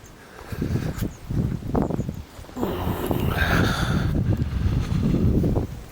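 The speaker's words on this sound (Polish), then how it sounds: "Wiaterek wieje, nieprzyjemny." Steady wind blowing outdoors with buffeting gusts against the microphone, fairly loud and continuous throughout.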